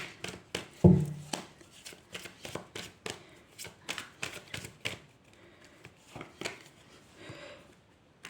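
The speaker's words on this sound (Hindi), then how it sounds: "चलिए हम कुछ और कार्ड्स निकालते हैं।" Tarot cards are shuffled and handled up close in a steady run of crisp riffling snaps and soft slides, with one heavier thump near the start and no talking.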